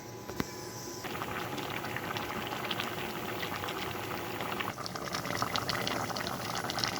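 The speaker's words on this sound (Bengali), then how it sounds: "এটা এখন সিদ্ধ হবে, ঢাকনা দিয়ে দিলাম।" Bottle gourd and beef boil in a covered pot, a dense continuous bubbling and roiling that stays close and steady throughout, with brief clinks near the start and no one speaking.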